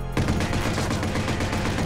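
Gunfire in the video game Watch Dogs, a sudden dense, loud stream of rapid automatic shots hammering steadily without pause for nearly two seconds.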